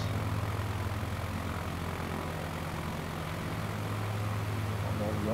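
A propeller airplane engine droning steadily in Microsoft Flight Simulator 2020 over Ponta Grossa, a constant low hum with no breaks, moderately quiet.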